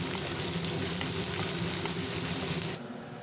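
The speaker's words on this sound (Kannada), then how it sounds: "ಇಲ್ಲಿ ಆಯಿಲ್ನಲ್ಲಿ ಚೆನ್ನಾಗಿ ಫ್ರೈ ಆಗ್ತಾ ಇದೆ." Chopped onions fry steadily in hot oil for vermicelli upma, a dense continuous sizzle that holds loud and even before cutting off sharply near the end.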